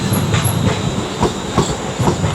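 Class 350 electric train, unit 350-106, at London Euston on the West Coast Main Line, wheels clacking rhythmically over rail joints with a faint high squeal, close and steady, no voices.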